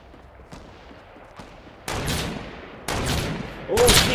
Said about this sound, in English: Over here, some gunshots and all that.